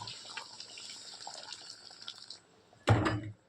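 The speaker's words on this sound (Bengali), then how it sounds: "তাই আমি গরম জল দিয়ে দিচ্ছি।" Hot water poured into a pan of vegetarian mushroom curry, a faint continuous trickle and hiss that ends in a short, louder splashing burst near the end.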